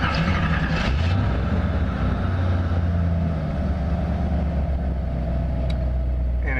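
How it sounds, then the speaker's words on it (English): A 1951 Chevrolet street rod idles steadily after starting, a low, even engine rumble with a deep throb, close and constant throughout. "you have to depress the brake in order to start the car"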